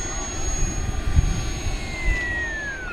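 An FMS 1700mm Corsair V3 RC warbird running on a 6S battery and a new propeller drones steadily overhead with a whining electric motor tone that slowly shifts pitch as it passes, close and fairly loud.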